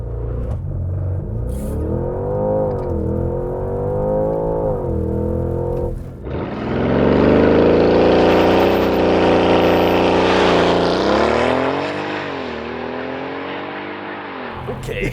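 A 2025 Porsche Cayenne GTS Coupe with a twin-turbo V8 launches under launch control, engine roaring loud and close with rising harmonic sweeps as it accelerates hard through gear changes, a brief dip near six seconds before surging again.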